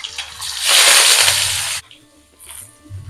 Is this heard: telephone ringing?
no